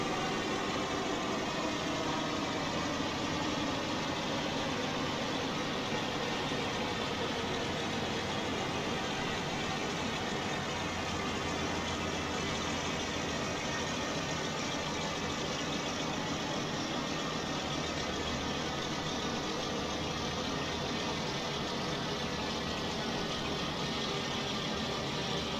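Steady, droning aircraft propeller engine at reduced throttle in Microsoft Flight Simulator 2020, a continuous loud hum with slowly sliding harmonics and no breaks throughout.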